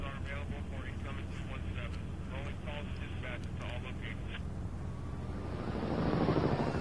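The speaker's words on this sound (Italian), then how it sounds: "Elicotteri" Helicopters approach in The Walking Dead video game, a loud rotor and engine drone that swells toward the end, heard under a voice.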